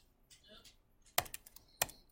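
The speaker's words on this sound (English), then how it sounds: "Typing's hard." Typing on a computer keyboard: a few sharp key clacks, two loud strikes with some softer taps between them, close by after some faint murmuring.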